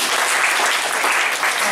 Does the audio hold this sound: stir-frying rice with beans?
no